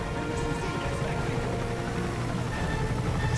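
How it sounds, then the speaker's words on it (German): A helicopter arriving in the video game Call of Duty Modern Warfare 3, with a steady, dense rotor rumble and patter that holds at a constant level for a few seconds, with no voices over it. "Wo kommt denn der Heli her?"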